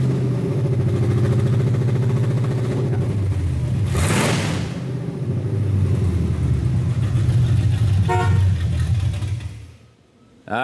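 A Chevy square body truck engine runs with open headers, a loud steady low rumble throughout with a brief revving surge near the middle, then it drops away near the end.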